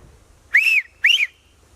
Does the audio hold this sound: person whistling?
yes